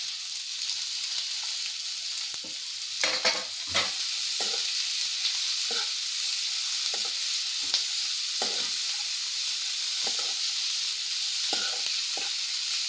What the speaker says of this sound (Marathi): हे दोन्ही छान परतून घ्यायचं एकत्र।